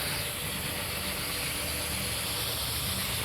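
Steady aerosol hiss of brake cleaner sprayed onto warm transmission and swing axle parts of a 1964 VW Beetle, a continuous close spray lasting throughout with no talking.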